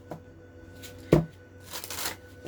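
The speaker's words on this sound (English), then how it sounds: "Alright, I'm going to get 2 cards from the crystal" Crystal reading cards being shuffled by hand, with a few soft riffling bursts and one sharp close snap of cards, in a quiet room with no talking.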